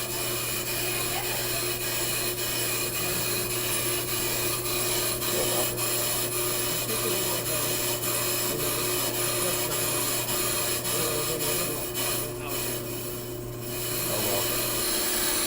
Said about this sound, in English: the rotor's not warping and it's giving a nice clean cut all around